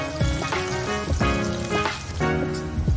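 Finely chopped onion is tipped into hot oil with cumin seeds and stirred for a close, steady sizzle. Scraping pulses sound at short intervals over a faint tonal backdrop, with no talking.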